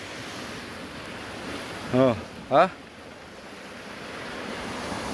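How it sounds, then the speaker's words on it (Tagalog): Steady wash of ocean surf breaking on the South Korean east coast, with wind noise on the microphone and two brief spoken words over the continuous roar of the waves. "Kaya lang grabe lagi ang alon dito, ang lalakas."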